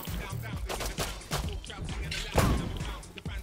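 Handcannon gunshots in the video game Rust land as a handful of quick, punchy reports amid game noise, with a voice talking over them.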